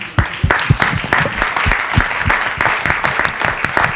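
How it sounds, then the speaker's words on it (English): An audience applauds after a Q&A session on atheism, a brisk, steady patter of many hands clapping at close range for the whole stretch, with no one talking. "Let's give yourselves a hand."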